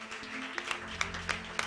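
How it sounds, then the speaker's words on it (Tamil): Worshippers clap during a church worship service, a few sharp hand claps standing out at moderate level over a low sustained hum and background murmur. "நல்ல ஜீவனோட ஒரு கைத்தட்டு."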